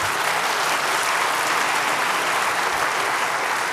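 A large audience at the 28c3 hacker conference claps loudly and continuously, a dense even roar of applause with no voices standing out.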